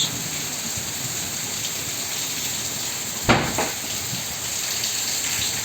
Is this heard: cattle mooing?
no